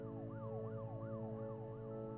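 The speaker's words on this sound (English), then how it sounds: "there was just then like a siren noise. Like a police siren." A police siren wails in repeated rising-and-falling sweeps over a steady low drone, continuous and fairly prominent for the whole stretch with no talking.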